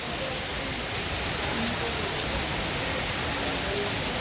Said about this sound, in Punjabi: ਬਰਸਾਤ ਵੀ ਵਧੀਆ ਪਹਿਲੀ ਬਰਸਾਤ